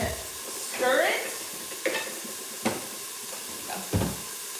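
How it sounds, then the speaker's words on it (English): Sausage and beans sizzle quietly in a skillet while a spatula scrapes and stirs in a few separate strokes, with a brief voice-like sound early on. "All right, so we got some sizzle."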